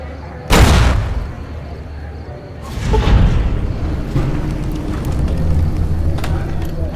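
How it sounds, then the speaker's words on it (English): Grenade detonation in Fallout New Vegas, a sudden loud boom followed by a second rumbling blast and lingering low game ambience. "So if I just throw this grenade, and then back up, I should be in the clear."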